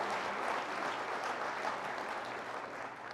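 Distant, soft applause from a conference audience at an annual conservation meeting's opening session, a continuous patter of many hands tapering slightly at the end, no voices.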